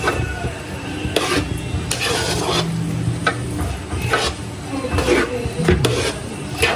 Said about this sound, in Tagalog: At hindi na po masyado mahirap haluin.